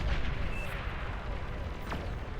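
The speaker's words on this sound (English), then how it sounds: "Oh, that Aphis gonna blow everything up." Aphis unit explosions in the Beyond All Reason strategy game rumble as a dense, continuous barrage of distant booms and crackling blasts, steady and low, with no clear talk.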